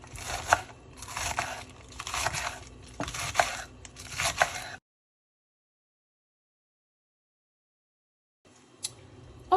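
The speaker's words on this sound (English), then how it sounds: "the last thing that I need to chop up is the lettuce" A knife chops lettuce for Halloween taco baked potatoes in five quick bursts of crisp, crunchy cuts, then falls silent and starts again faintly at the end.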